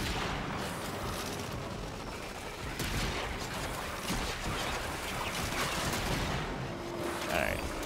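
The Velocitus arch-gun in Warframe roars in a dense, continuous blast of noise that holds steady throughout, with a brief swell near the end and faint voice mixed in.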